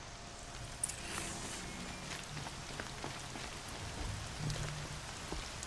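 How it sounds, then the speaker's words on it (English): Steady rain falls across an outdoor scene in Horizon Zero Dawn, a soft continuous patter with scattered drop ticks and a faint step or two, playing alone without talk. "The rain doesn't help though."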